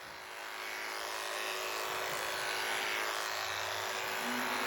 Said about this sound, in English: Lister Fusion clippers here. So they've got a much finer blade on them, so it's taking it much nicer, closer down to the skin.